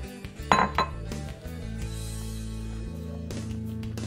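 Flour for makki ki roti is mixed in a bowl, with a few quick clinks and knocks of utensil against the bowl near the start, then quieter mixing over a steady tonal background.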